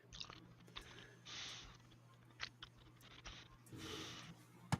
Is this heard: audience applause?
no